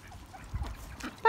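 A few brief quacks from ducks on the water on a fall morning, faint and fairly close, with no talk.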